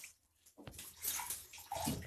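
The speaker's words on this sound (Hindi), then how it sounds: "चावल वॉश कर लेते हैं इनको अच्छे से वॉश करके दो तीन बार पानी में" Rice being rinsed by hand in a bowl of water for kheer, with soft sloshing and splashing that swells in a few bursts, close up and moderately quiet, no voices.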